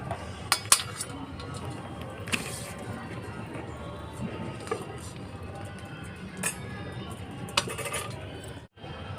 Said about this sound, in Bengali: কাজু বাদাম এগুলো ছোট্ট ছোট করে নেব